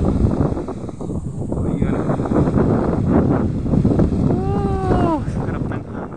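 Wind blows steadily in gusts, buffeting the microphone with a broad rushing noise, while a brief tonal squeak rises near the end.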